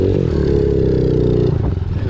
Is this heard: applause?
no